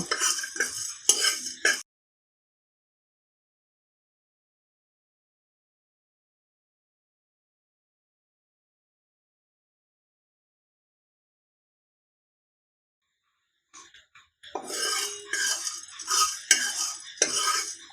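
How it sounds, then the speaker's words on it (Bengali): Whole cumin, cardamom, cloves and peppercorns dry-roasting on low flame in a pan, with a spoon clattering and scraping in short bursts at the start and end, separated by a long silence. "মশলাটা একদম লো ফ্লেমে ভাজা হবে।"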